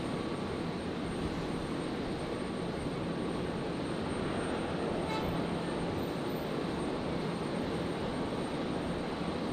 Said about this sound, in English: Our first Dash 8 movement of the night.